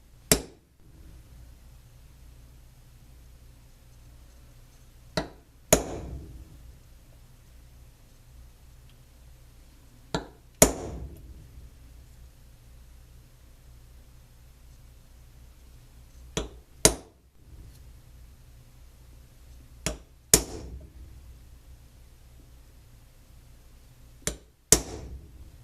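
Hole positions are punched into a metal box mod enclosure, giving sharp, isolated metallic taps that come singly or in quick pairs about every five seconds against a near-silent room.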